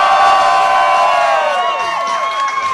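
A crowd at a bull riding competition in a music hall, loud sustained cheering and whooping with high voices shouting over each other, dense and close throughout.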